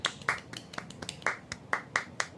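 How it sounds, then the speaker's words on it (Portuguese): Hand clapping in a round of applause, sparse and uneven: around ten distinct claps over a couple of seconds, fairly close and moderately quiet, as if from only one or a few people. "Então, por favor, uma salva de palmas para o Sergey."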